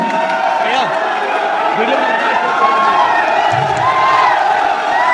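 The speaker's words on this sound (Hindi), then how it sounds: "स्वागत करें जोरदार तालियों से मिस्टर मुकुल आनंद" An audience welcomes a performer at a railway poetry event with crowd noise and cheering, a dense continuous wash of clapping and voices with whoops and shouts mixed in.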